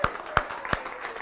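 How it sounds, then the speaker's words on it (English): Scattered hand claps from a small crowd, a few sharp strikes standing out over a thin, brief patter of applause. "can we give a big round of applause to the organizers of this awesome event?"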